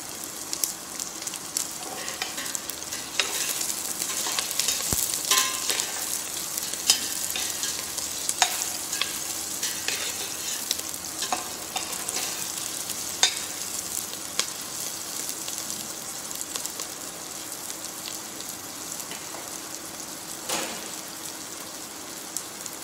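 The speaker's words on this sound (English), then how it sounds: "The sauteing of the vegetables will add to the color as well as to the taste, to the flavor." Vegetables saute for a brown stock in a professional kitchen, a steady close sizzle with frequent stirring scrapes and crackles running throughout and no talk.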